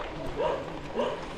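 Two separate dog barks spaced about half a second apart at dawn in Mindoro, fairly faint and distant, set against a steady outdoor background hum.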